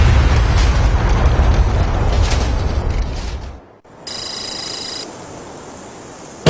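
A bomb is detonated aboard an out-of-service Boeing 747 in a blast test. There is a loud, sustained roaring burst that cuts off abruptly after a few seconds, followed by quieter rumbling noise.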